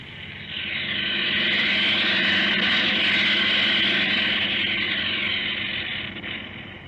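A propeller airplane drones in flight for a radio drama, its engine swelling in from quiet, holding a loud steady hum, then fading slightly as it passes.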